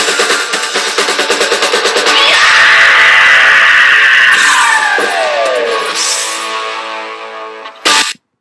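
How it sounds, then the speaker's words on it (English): A singer's scream in a song recording rises over pulsing, distorted music into a long, loud, sustained high wail that bends downward before breaking off, followed by a brief sharp burst and silence. "that scream is the best scream I've ever heard."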